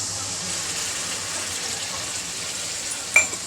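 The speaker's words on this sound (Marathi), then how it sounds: "तर याच्यामध्ये आपण आता पाणी टाकून घेऊया." Frying pea and potato curry sizzles steadily in a pan, then water is poured in near the end, producing a short sharp splash and hiss.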